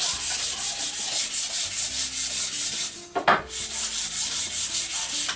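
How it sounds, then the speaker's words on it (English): Aluminium oxide sandpaper of 240 grit rubs back and forth along a wooden garden hoe handle in a steady, close, scratchy rhythm, with one brief jolt partway through. "First thing to do is sand down the handle, get all the roughness off it."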